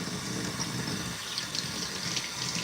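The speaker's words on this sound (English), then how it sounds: "All right, so I'm gonna rinse my hair now." Water running steadily while hair is rinsed, a continuous hissing splash with no talk.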